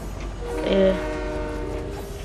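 A train in the Fortnite video game sounds its horn in one loud, steady chord that swells briefly and then holds, over a continuous low rumble of the passing train.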